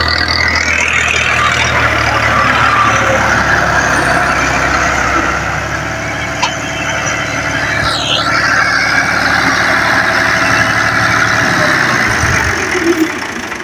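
A green tractor engine running in a farm setting, a steady rumbling idle that holds close and loud throughout, with a brief higher mechanical whine partway through.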